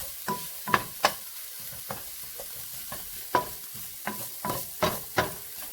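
Spicy pork sisig with pepper sautés in a pan, a spatula scraping and clacking in irregular strokes every half second or so over a faint sizzle. The sound is close and moderately quiet, with no talking.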